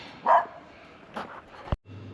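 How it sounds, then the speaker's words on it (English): A puppy on a small-town street outside a cafe in Western Australia gives a couple of short, brief barks, moderately close, with quiet ambient noise between them. "oh, there's a puppy dog"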